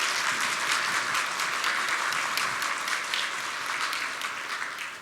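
A church congregation applauds as certificates are handed out at a faith training graduation, producing steady, dense clapping from many people that carries on evenly and tapers slightly at the end.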